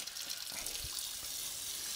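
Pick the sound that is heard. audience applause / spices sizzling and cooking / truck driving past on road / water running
water running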